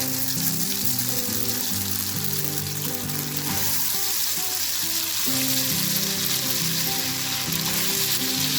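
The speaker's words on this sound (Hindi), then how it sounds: "ऑयल गरम हो गया है, अब मैं फ्राई कर रही हूँ कबाब।" Kebabs frying in hot oil over a medium-low flame, a dense, steady sizzle and crackle that runs close and unbroken throughout, with no talking.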